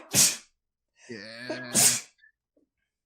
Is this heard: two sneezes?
yes